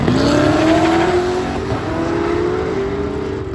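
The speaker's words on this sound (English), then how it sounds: "Got the Colorado and the Camaro going after it for their first pass of the day" A Chevrolet Colorado truck and a Camaro make a drag racing pass, engines roaring loud and close as they accelerate hard, the pitch climbing steadily through the run with no talk.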